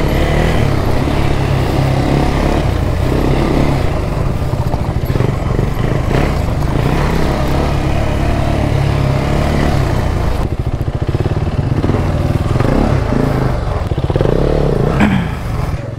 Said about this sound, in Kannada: ಅಶ್ವಿನ್ ಬೈಕು ಮತ್ತು ಅಂಕಿ ಬೈಕ್ ಬರೋದಕ್ಕೆಲ್ಲ ಸ್ವಲ್ಪ ಕಷ್ಟ ಆಗುತ್ತೆ.